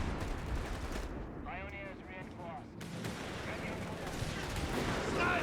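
A mortar fires on a battlefield in the video game Company of Heroes 3. It sounds as dull booms inside a steady wash of gunfire and distant blasts, heard continuously at moderate volume.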